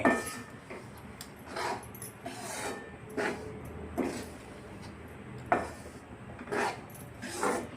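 Ragi flour roasting in ghee in a pan, heard as a spoon scraping and stirring in repeated rough strokes, about one every second, close and moderately quiet with no voices.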